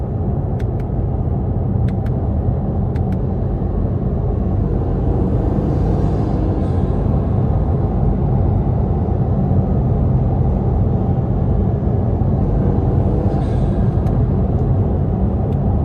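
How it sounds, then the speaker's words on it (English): From inside the cabin of a 2019 Acura NSX Sport Hybrid with its mid-mounted turbocharged engine behind the seats, a steady, heavy engine and road rumble drones continuously on a rough interstate stretch, with no talking. "where the engine is right behind you, you hear those turbos putting in work"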